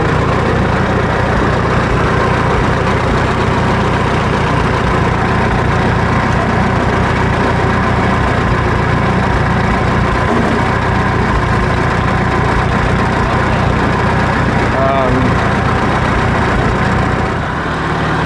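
A Farmall 300 tractor engine runs loud and steady as it idles and drives around, a continuous heavy rumbling drone close by with no pauses.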